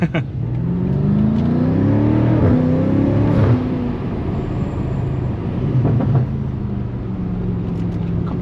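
A BMW M5 with a carbon hood accelerates through a turn, its engine rising loud and close in pitch before easing and building again, with no talk over it.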